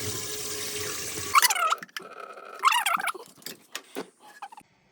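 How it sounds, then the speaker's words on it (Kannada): Water is poured into a cooking pot while making pathrode: a short burst of gurgling pour, a pause, then a second gurgling pour, followed by light clinks and handling noises with no talking. "ಇದರಲ್ಲಿ ಒಳಗಡೆ ನೀರು ಹಾಕಿಬಿಟ್ಟು, ಒಳಗಡೆ ವಾಟ್ರನ್ನ ಹಾಕಿಬಿಟ್ಟು"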